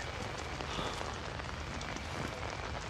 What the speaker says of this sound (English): Oh, I can hear the rain. That's so creepy.